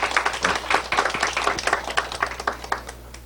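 Audience applause greeting a lecturer at a Korean study-method talk, a steady dense patter of many hands clapping close by for a few seconds with no voices over it.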